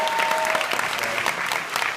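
A convention panel audience claps loudly and continuously in a dense burst of applause, with crowd noise mixed in and faint voices beneath the clatter.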